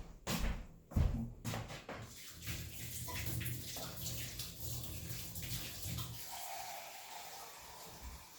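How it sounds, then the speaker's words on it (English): Water, 575 grams of it, is poured into a bowl of bread dough ingredients, a steady soft splashing and trickling after a few knocks and handling sounds at the start, close by and fairly quiet. "next I will be adding some water, and for this recipe I'm using 575 grams of water"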